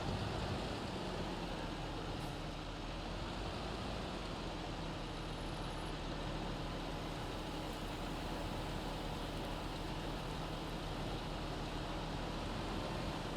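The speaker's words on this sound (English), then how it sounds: "I have to reverse our tractor and the trailer" Tractor with a trailer reversing in a farming simulator game, heard as a steady low engine drone at an even idle-like pitch, moderately quiet and unbroken throughout.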